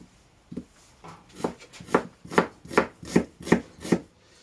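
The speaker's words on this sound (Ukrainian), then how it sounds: "Нарізаю цибулю на півкільця." A knife chops an onion into half-rings on a board, about eight crisp, evenly spaced strokes that grow a little firmer as they go, close and clear with no talking.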